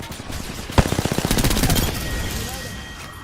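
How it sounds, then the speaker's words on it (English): Automatic gunfire in a first-person shooter game, a sharp shot followed by a rapid rhythmic burst of rounds that trails into a fading rumble. "They're shooting at me."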